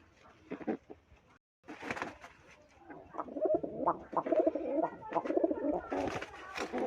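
Rajshahi Giribaz pigeons, a colour-matched pair including a moulting hen, coo in low rhythmic bursts close by, with brief pauses and a short silent gap between calls.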